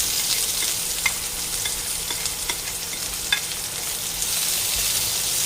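Sliced onion frying in hot sunflower oil in a pan, a steady close sizzle with scattered crackles and a few sharp spatula scrapes against the pan, no voices.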